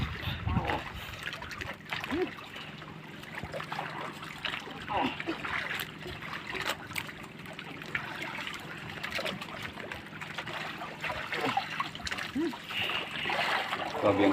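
A strong river current rushes and splashes steadily around a fishing spot, a continuous broadband wash with small trickles and splatters throughout, with voices talking over it at times.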